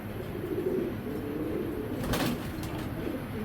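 Racer pigeons of Janssen bloodline coo softly in a low, murmuring rumble, with a brief burst of fluttering or scuffling midway, close by.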